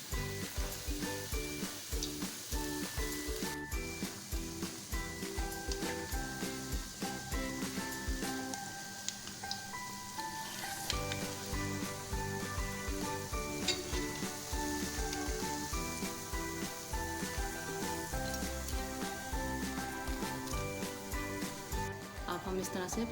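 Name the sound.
frying pakoras in oil for kadhi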